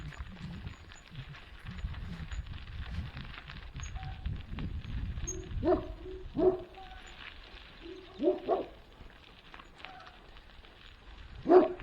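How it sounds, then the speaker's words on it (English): Dogs approach and bark outdoors, a few short sharp barks and yips spaced out over a crackling, rustling background, some near and fairly loud. "Yeah, here comes the dogs."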